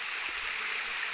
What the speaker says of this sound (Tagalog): sa agos ng tubig. Ang taas niya, oh. Oh, pababa.